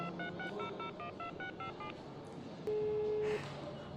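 A mobile phone keypad sounds out dialing tones: a quick run of about eight short, even beeps, a pause, then one longer steady tone. The beeps are fairly faint over a constant background hum.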